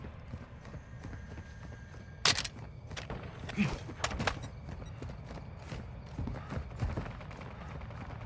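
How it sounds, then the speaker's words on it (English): Enemy footsteps in Call of Duty Modern Warfare 2 free-for-all match, a run of close, loud thudding steps amid gunfire-like bursts and game noise, with no talk over them. "It's like this guy's footsteps are too loud."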